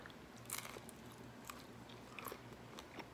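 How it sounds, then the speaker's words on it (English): Someone bites and chews a crunchy keto pizza with a chicken-based crust, giving faint, close crackly crunches over a low background hum. "Can you hear the crunch there?"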